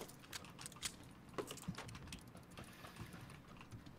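Computer keyboard keys clacking in quick irregular bursts during a PUBG squad session, close and fairly quiet, with no talking.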